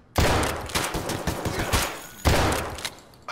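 Repeated bursts of gunfire between scavs in the video game Escape From Tarkov, dense volleys with sharp onsets near the start and again past the two-second mark, loud and continuous with no talk.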